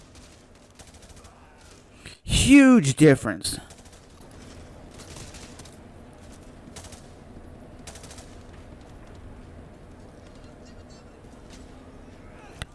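Gunfire from a realistic video game comes as one short, loud, rapid burst of automatic shots, followed by quieter ambient sound while a person speaks briefly.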